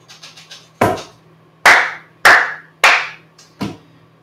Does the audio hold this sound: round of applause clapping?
yes